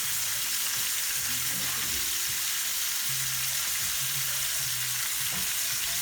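Pork shoulder browns in a hot pan, a steady close sizzle and crackle of frying meat filling the clip, with a faint low hum underneath and no voices.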